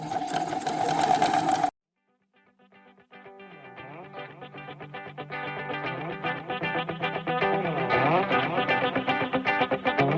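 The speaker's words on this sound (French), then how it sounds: "On étire toujours le tissu pendant la couture." Domestic sewing machine stitching stretched boxer-shorts fabric, a steady close whirring run of needle strokes that starts after a short pause and speeds up toward the end.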